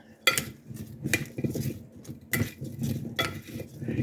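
Utensil stirring and clinking against a dish of food seasoned with salt and dried parsley, a run of close scraping, tapping strokes in irregular bursts with no talk.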